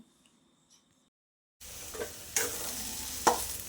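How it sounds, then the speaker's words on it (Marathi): Potato bhaji for vada pav stir-fried in a pan, with chopped coriander added: after a quiet start, a steady close sizzle of frying with spatula scrapes and clinks, no talk. "बटाट्याची भाजी आपली चांगली पाच मिनटं परतली"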